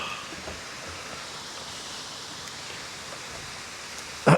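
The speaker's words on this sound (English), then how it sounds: "You can hear the water coming off that cliff." Steady rushing water pours off a cliff continuously like distant falls, an even hiss throughout, ending with a brief loud knock.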